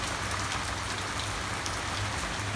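A heavy rain downpour drums continuously outside, a loud, constant wash of drops spattering nearby surfaces with no voices.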